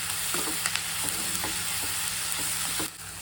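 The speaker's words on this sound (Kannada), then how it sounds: "ಕರ್ಬೇವಿನ ಸೊಪ್ಪು, ಇದನ್ನು 1-2 ನಿಮಿಷ ಫ್ರೈ ಮಾಡೋಣ." Curry leaves frying in a pan with a pinch of salt, a steady loud sizzle throughout with soft scraping stirs and light taps of the spoon against the pan; no talking.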